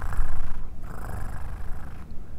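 A pet cat purring loudly and close while being stroked, a low rumbling purr running steadily through the whole moment with slight pauses.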